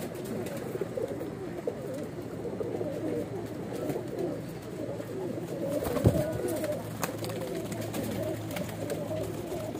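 A flock of Weshi, Kansani and Sialkoti pigeons coos continuously up close, overlapping low calls forming a constant burbling chorus with a short clatter midway.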